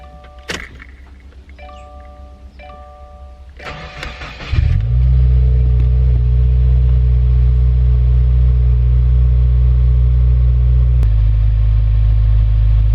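A 2019 Subaru WRX engine cranks and catches after some faint clicks and chimes, then settles into a loud, steady idle that hums on with a slight shift near the end.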